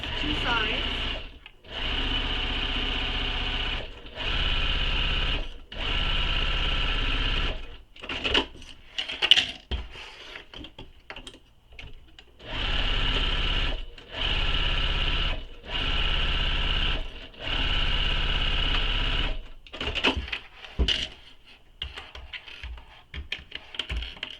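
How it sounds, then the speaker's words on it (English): Sewing machine stitching the side seams of a fabric bag, running in steady bursts of a few seconds each with short pauses between, close and clear, with occasional handling noises in the gaps. "So using the seam allowance given in the pattern, sew the two sides."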